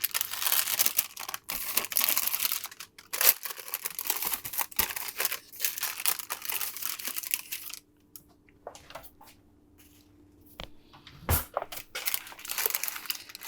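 Paper crinkling and tearing in irregular bursts as glazed cinnamon rolls are pulled free from baking paper, close and fairly quiet, with a calmer stretch partway through before the rustling resumes.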